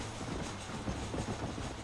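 Train rolling along in the Western video game Red Dead Redemption, a steady low rumble of wheels and carriages running continuously at moderate, even loudness with no talking.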